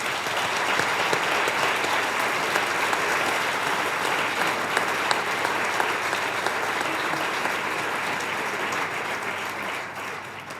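An audience at a festival inauguration gives a sustained round of dense, even applause that holds for about ten seconds and eases slightly at the very end.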